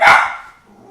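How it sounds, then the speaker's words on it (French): A playful dog gives a single loud, close bark that rings out and fades over under a second, with nobody talking. "C'est un chien qui veut jouer, on joue comme ça"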